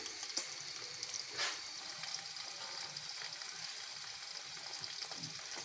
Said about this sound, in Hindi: अब इसमें हम इस भिंडियों को फ्राई कर रहे हैं।